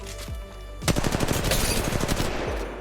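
Rapid automatic gunfire in the mobile game Apex Legends Mobile, a dense loud burst of fast shots following a short mechanical reload click, with no talking over it.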